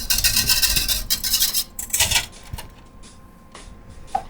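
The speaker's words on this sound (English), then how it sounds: "why don't you go ahead and start whisking that up?" A whisk rattles quickly against a bowl while a sauce is mixed during a cooking session, in loud scraping bursts that thin out into sparse taps and clinks near the end.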